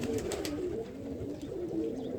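A large pigeon on a rooftop coos steadily, a low, throaty, rolling call repeating close and clear over the whole stretch, with no talk.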